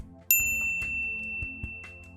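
A bright notification bell chime rings out once, clear and close, its high ringing tone fading slowly over soft background music.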